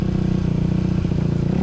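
A dirt bike engine roars loudly and steadily at a motocross start gate, holding a high, buzzing throttle with a throbbing rhythm throughout.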